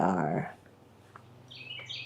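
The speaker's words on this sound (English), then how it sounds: "I don't know if you can hear my birds in the background." Pet birds indoors during a quilting session, with a few faint high chirps in the background near the end, following a brief voiced sound at the start.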